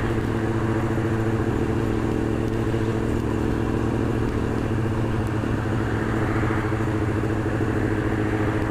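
Car following closely behind on the road, a steady rumbling engine drone with low clatter that stays constant and fairly loud throughout.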